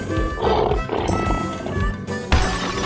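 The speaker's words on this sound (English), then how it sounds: "Lion." A lion roars as a sound cue in an escape room guessing game, a loud harsh bellowing roar lasting a few seconds with a fresh burst toward the end.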